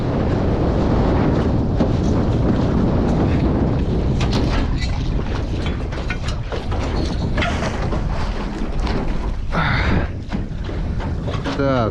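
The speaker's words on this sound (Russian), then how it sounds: "сильный боковой ветер" A strong crosswind buffets the microphone on a fishing boat on open water, a loud, continuous roaring rumble with gusty surges, while someone speaks over it.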